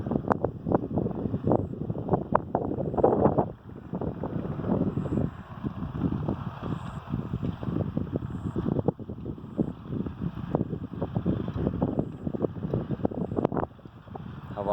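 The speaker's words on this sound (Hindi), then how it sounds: "हवा की आवाज़ आपको आ रही होगी।" Cool wind blowing across open cotton fields in a Pakistani village, a steady broadband rush with gusty buffeting against the microphone throughout, continuous and fairly loud with no voices.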